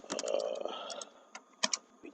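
Typing on a computer keyboard while writing Unity C# code: a close run of light, quick key clicks in uneven bursts, with brief pauses between groups of strokes and no talk.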